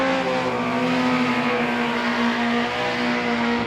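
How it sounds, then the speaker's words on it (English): A junior production sedan race car on a dirt speedway straight at night, its engine holding a loud, steady, droning tone under acceleration for several seconds, close and unbroken. "the big junior car underway down the front straightaway"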